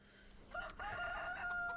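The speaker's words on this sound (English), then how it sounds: "The chickens are loud." A rooster crows near a farm grain selling point where soybeans are delivered, one drawn-out crow rising after a brief, quieter start, with other chickens audible in the background.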